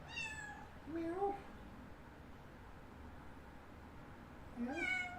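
A cat meows twice, near and clear, the first cry rising and falling, the second a few seconds later, over a faint steady background hiss.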